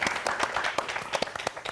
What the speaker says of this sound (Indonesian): Tepuk tangan dulu dong untuk kita semua kali ini.